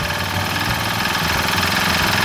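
A small engine idles while its diaphragm-pump carburetor is tuned, a loud, steady, slightly rough running drone continuing throughout.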